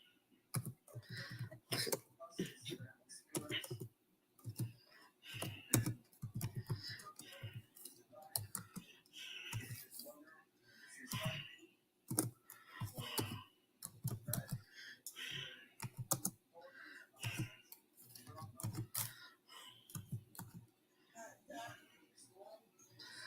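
Computer keyboard typing in quick irregular bursts of close clicks and taps, stopping and starting with brief pauses, with occasional soft voice sounds and throat noises in between.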